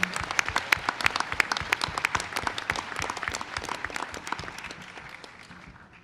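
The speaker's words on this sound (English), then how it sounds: "Another round of applause for them." A crowd applauds with steady, dense clapping that fades gradually toward the end.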